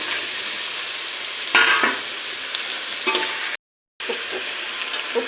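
Ginger garlic paste, carrot, beans and potato frying in a pan give a steady close sizzle, with a louder stirring burst partway through and a short silent gap near the end.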